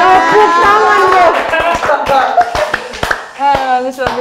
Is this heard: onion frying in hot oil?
no